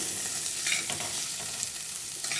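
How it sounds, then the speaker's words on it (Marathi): Onion being sautéed in a pan over medium flame, a steady close sizzle with faint stirring scrapes throughout, no voices. "कांदा चांगला परतून घेऊया आपण."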